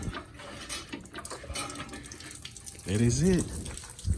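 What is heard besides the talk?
coolant draining out of a 2012 Dodge Charger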